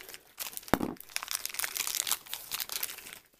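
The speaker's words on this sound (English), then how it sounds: "I'm gonna cut these open." Blind bag plastic packaging being cut open, close crinkling and crackling of thin plastic with a sharp snip early on, steady handling noise continuing for a few seconds, no talking.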